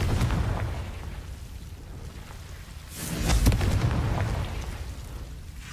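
A Confringo blast spell cast in the Hogwarts Legacy video game, heard as a deep booming explosion that swells and rumbles over steady low background noise, with no talking.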